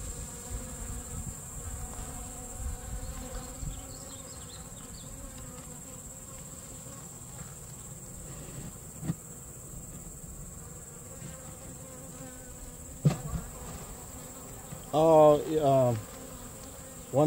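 Steady honey bee buzzing hums throughout at an open hive during an inspection, with a few louder close passes and brief knocks toward the end.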